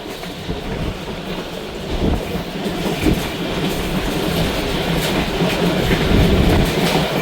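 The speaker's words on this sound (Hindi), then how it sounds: "कानपुर निकलते ही ट्रैक कंडीशन बेहतर होने की वजह से ट्रेन की स्पीड में एकदम सा इजाफा हो जाता है" The Khyber Mail passenger train speeds along the track with a loud, continuous rumble and rhythmic wheel clatter that swells as it gains pace, heard from on board.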